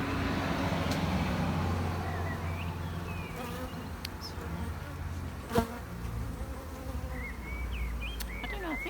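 Honey bees buzzing around a new hive built with empty frames and a couple of honey frames, a dense steady hum with single bees darting close past now and then, with faint traffic in the background.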